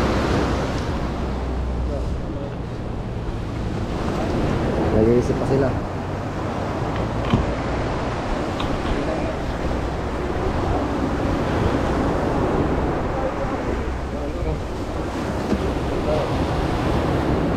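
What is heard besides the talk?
ocean waves rocking a boat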